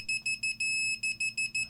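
Rapid chirping beeps from a Fluke multimeter's continuity tester as its two probes touch each other, one slightly longer tone in the middle, close and clean with no voices.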